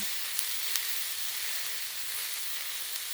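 Hot dogs on a griddle give off a steady, bright sizzle with an even hiss. A couple of faint pops and ticks come through, and no one speaks.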